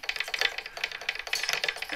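A hand string winder turns rapidly while winding an acoustic guitar string, giving a fast, close ratcheting clatter of light plastic clicks and whirring with a steady rhythm.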